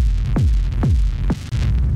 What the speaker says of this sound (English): This is what's giving us the rumble